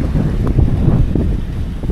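Strong northeast monsoon wind roars steadily against the microphone on a fishing trip, a constant low buffeting rumble with no voices, over faint sea or boat noise.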